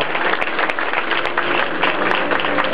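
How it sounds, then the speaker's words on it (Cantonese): Warm applause fills a wedding celebration, a steady, dense patter of many hands clapping close by, with a few sharper individual claps standing out throughout. "首先我哋再一次俾熱烈嘅掌聲，恭喜對新人嘉賢啊"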